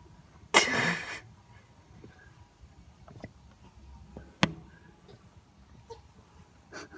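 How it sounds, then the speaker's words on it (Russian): A pigeon sneezing: one sharp, close burst near the start, then a second short snap midway over quiet room background. "Я не думала, что голуби могут чихать."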